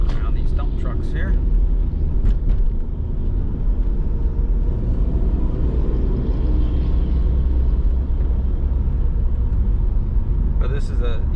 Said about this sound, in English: Get around these dump trucks here.